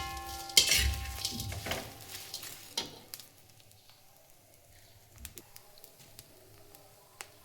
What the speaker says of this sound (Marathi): आता आपण कांदा भाजून घेणार आहोत.